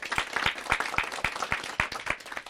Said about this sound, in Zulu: elikhulu ihlombe